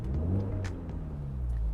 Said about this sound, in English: if I just give it a little rev